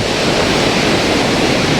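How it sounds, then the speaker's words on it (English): Ocean waves at Cape Disappointment roar as a loud, continuous wash of surf, close by and unbroken for the whole short stretch with no voices. "Some nice waves."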